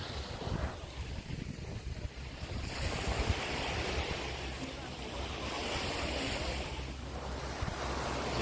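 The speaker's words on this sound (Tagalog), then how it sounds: "So pakita ko sa iyo yung beach talaga." Ocean surf rolls onto a beach in the Philippines, a broad continuous wash of waves with wind buffeting the microphone, heard up close and fairly quiet.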